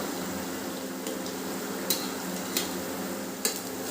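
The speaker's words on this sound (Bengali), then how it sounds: "বড়াগুলো সব একটা একটা করে আমি উল্টিয়ে দিচ্ছি" Jackfruit seed fritters frying steadily in hot oil, a continuous close sizzle with three or four sharp clinks as they are turned one by one.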